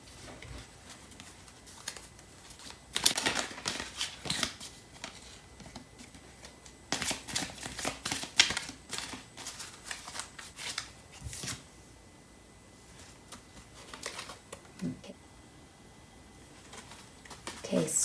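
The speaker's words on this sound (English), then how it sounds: "let's pull out a card from the Oracle deck to see what message the Starseed Oracle deck has" Starseed Oracle cards shuffled and drawn from the deck, with bursts of crisp riffling and soft slapping in several spells, under and between a voice talking quietly.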